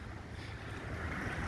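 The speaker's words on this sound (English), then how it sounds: "It is so windy. There are white caps on this lake." Strong wind buffets the open air by a lake whipped into whitecaps at Codorus State Park, a low rumbling gust noise that swells slightly toward the end.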